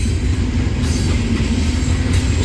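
A CSX coal train led by ES44 and SD70MAC locomotives rolls past close by, with a loud continuous rumble and rattling wheel noise.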